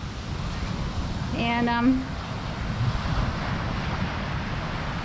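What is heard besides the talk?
ocean waves at the beach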